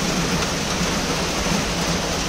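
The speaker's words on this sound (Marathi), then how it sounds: "श्रावण चालू झालाय आणि पावसाने चांगलीच जोरदार हजेरी लावलेली आहे।" Heavy monsoon rain pours steadily in a dense, unbroken broadband roar, loud and close throughout with no breaks or other sounds.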